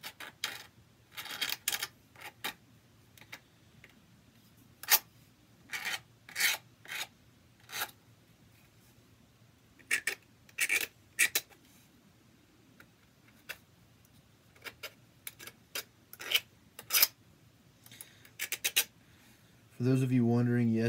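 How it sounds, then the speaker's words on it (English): A knife blade scrapes along the edges of a Kydex holster to deburr them, giving short, sharp rasping strokes in irregular bursts with quiet gaps between them. A voice starts briefly at the very end. "I do have an actual deburring tool, but for Kydex, it just kind of eats through it, and you're better off just using a knife"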